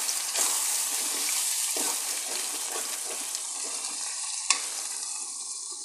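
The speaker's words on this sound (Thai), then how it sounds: "จากนั้นเราก็คนส่วนผสมให้เข้ากันนะคะ" A spoon stirring spaghetti bolognese sauce ingredients in a pan, with a soft continuous sizzle, scraping strokes and a sharp clack near the end, close and unaccompanied by talk.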